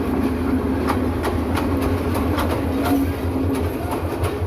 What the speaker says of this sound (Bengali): ঢাকা অভিমুখী আন্তনগর চট্টলা এক্সপ্রেস ট্রেনটি ভৈরব বাজার জংশনের 1 নম্বর প্ল্যাটফর্মে প্রবেশ করেছে